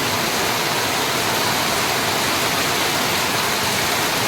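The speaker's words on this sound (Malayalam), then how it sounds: "കുറച്ച് നേരമായി പെയ്യാൻ തുടങ്ങി" Steady, dense rain pours without pause, a continuous broadband hiss with no wind gusts or voices.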